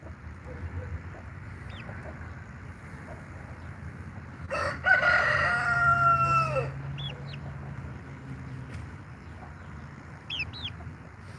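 Chickens cluck softly and intermittently while a rooster lets out one loud, drawn-out crow partway through, with faint farmyard background and occasional chirps around it.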